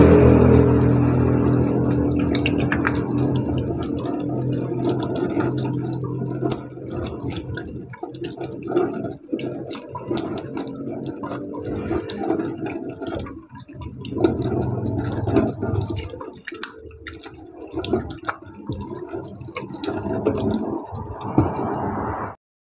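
Water splashing and dripping while bleaching whipped scrub is rinsed off skin, a steady wet wash of running and splashing water with small squishy rubbing sounds, close and continuous, fading out at the end.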